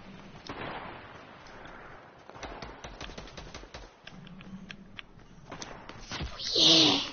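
Hand cannon gunfire in a first-person shooter video game, heard as a series of sharp close shots scattered through a busy mix with a louder burst near the end.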